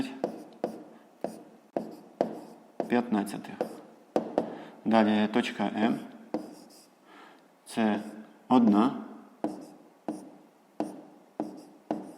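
A pen scratches out an answer on paper in short bursts of writing, separated by pauses, while a voice talks through a fifth-grade maths exercise in the foreground.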